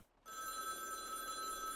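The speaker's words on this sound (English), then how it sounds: "The phone is ringing." Telephone ringing in the video game You Are The Judge, a steady electronic bell tone that starts abruptly after a brief silence and continues evenly, fairly loud and alone with no voices.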